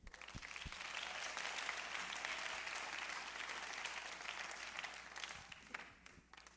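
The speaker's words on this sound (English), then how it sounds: "This senior class does deserve a hand clap." A graduation audience applauds the 2021 senior class, a broad, steady wash of clapping from a crowd that swells and then tapers off near the end.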